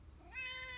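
A cat gives a single short, faint meow with a rising then steady tone, heard alone in a quiet room.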